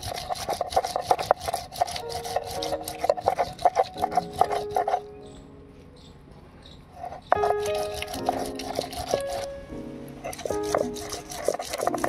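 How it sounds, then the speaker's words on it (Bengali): Onion is ground into paste by hand on a grinding stone, giving rapid rhythmic rubbing and scraping strokes that stop briefly midway and then resume, with music playing in the background. "সব শেষে বেটে নেব পেঁয়াজ"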